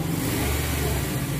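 Toyota car engine, fitted with an aftermarket throttle controller, revving lightly with a steady mid-pitched hum and no talk over it.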